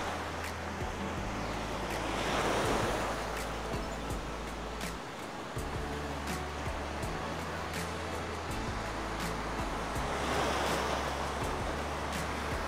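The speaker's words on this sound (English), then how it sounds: "Just the sound of the waves is so therapeutic." Surf rolling onto Akumal beach on Mexico's Caribbean coast a day after Hurricane Beryl, steady roar of breaking waves with gusty wind buffeting the microphone, swelling at intervals, no voices.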